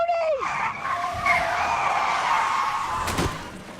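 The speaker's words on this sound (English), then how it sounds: "This scene where Aid and Tony are in a car and it crashes" In a Sopranos television drama scene, a car's tires squeal in a long skid, ending in a sudden crash impact, loud and close over engine noise.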